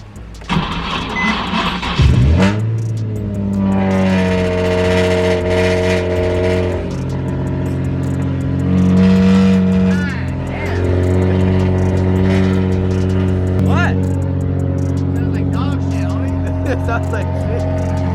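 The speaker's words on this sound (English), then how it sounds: "It literally sounds like a muffler delete, bro." A Nissan 350Z left unused for months cranks over and fires up, then revs loudly with a raw, open-exhaust drone that rises and falls several times, close by, with people talking over it.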